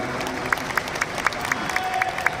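Applause and crowd noise at a lawyers' congress in an auditorium, a steady wash of clapping with sharper rhythmic claps standing out at regular beats, some voices mixed in.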